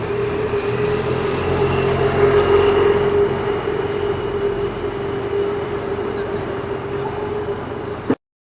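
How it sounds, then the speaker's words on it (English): A metro train passes through Flaminio station in Rome, a steady loud rumble with a sustained tonal whine that holds for several seconds and then cuts off abruptly. "I'm at the Flaminio metro access point."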